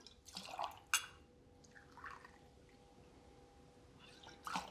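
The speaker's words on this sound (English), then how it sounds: "And then we're gonna do 4 ounces of dark Jamaican rum." Four ounces of dark Jamaican rum poured into a glass for a Hurricane cocktail, a quiet liquid trickle with a couple of brief clinks near the start and end.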